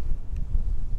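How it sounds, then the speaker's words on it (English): Wind buffeting a microphone, a low rumbling gust with no other sound. "It is getting windy."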